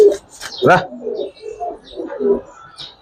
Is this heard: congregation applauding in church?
no